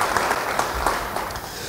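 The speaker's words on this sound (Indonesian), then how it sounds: "Yang mau dan siap, beri tepuk tangan kemuliaan bagi dia." A church congregation claps together during a sermon, producing a fairly loud, continuous wash of applause that holds steady and eases slightly toward the end.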